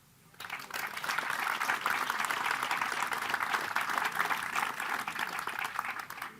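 A crowd applauds steadily for several seconds, a dense, even clatter of clapping that starts abruptly and holds at a constant level before tapering at the end.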